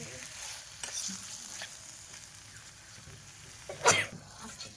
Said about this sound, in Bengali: এবার আমি দিয়ে দেব মাংস এবার একটু মাংসটা নাড়াচাড়া করে